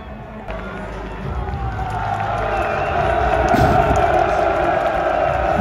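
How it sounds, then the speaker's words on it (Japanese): Football stadium crowd at a Gamba Osaka versus Machida Zelvia season opener, a dense sustained roar booing a player, swelling louder toward the end and heard continuously with no clear talk over it. "めちゃめちゃブーイングされてます。"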